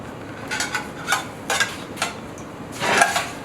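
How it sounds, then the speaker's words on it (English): Green curry paste is cooked out in a saucepan over medium heat, heard as a series of short scraping strokes from stirring, roughly every half second, over a quiet low hiss. "on a medium heat we want to cook out the curry paste."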